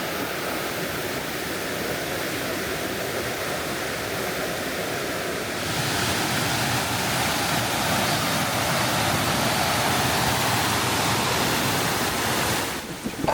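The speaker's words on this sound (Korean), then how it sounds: "바위를 타고 흐르는 계곡물이" A valley stream in late summer pours over rocks like a small waterfall, making a steady, close, full rushing sound that swells slightly louder midway.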